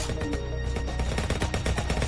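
Enemies firing rockets in the video game Voxel Turf: dense, rapid bursts of explosive gunfire-like blasts, loud and continuous with a rumbling low end.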